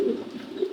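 A racing pigeon gives a single short, close coo against a quiet background.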